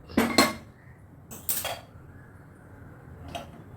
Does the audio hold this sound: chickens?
no